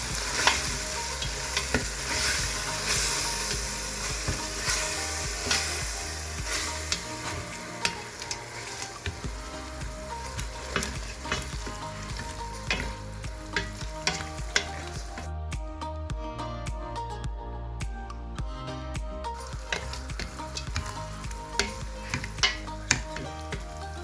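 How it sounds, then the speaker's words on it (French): Tomato paste and grated tomato stirred in a frying pan, a steady close sizzle with continuous scraping and clinking of a utensil against the pan, brief quieter stretch midway, no voices. "je viens rajouter le concentré de tomate, beaucoup concentré, et la tomate râpée. Et je viens mélanger."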